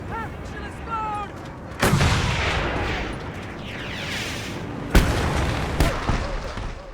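Heavy explosions in the Mad Max video game, a loud boom followed by rumbling debris and two more sharp blasts later, over game sound with some voice present.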